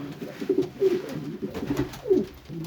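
Pigeons coo in a loft at dusk, a series of soft, low throaty calls repeating every half second or so, several birds overlapping close by.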